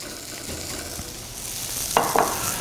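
Thin-sliced beef sizzling in a skillet with peppers and onions, a steady close frying hiss throughout, broken by a few short stirring scrapes near the end.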